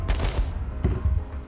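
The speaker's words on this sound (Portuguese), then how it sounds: "os tiros aí" A rapid burst of video-game gunfire, several booming shots close together, then a second volley after a short pause, loud and close.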